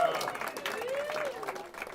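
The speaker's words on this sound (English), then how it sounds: "Give yourselves a round of applause for being such a good audience" Applause from a comedy club audience in Chicago rolls on beneath a voice as the comic keeps talking over the clapping throughout.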